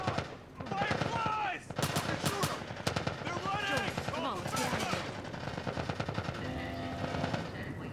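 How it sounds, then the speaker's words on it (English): Video game gunfire in The Last of Us Part 1: rapid bursts of shots and rattling automatic fire go on almost without a break, mixed with shouting voices and game sounds. "They're shooting!"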